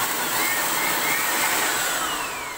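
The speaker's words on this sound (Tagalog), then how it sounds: "start na natin, blower natin." Air blower cleaning the opened parts of a laptop being repaired, a loud, steady high-pitched whoosh and whine running continuously and easing slightly toward the end.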